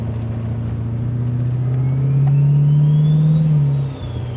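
A turbocharged V8 in a 1984 XE Falcon wagon revs loudly and close, its note rising and holding before dropping away, with a rising turbo whine over the engine drone.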